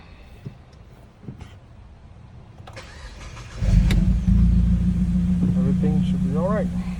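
An Alfa Romeo 159 2.2 JTS, its battery recently flat, cranks briefly and fires into a steady, loud idle that carries on to the end, with a few faint clicks before the start and a voice chirping near the close.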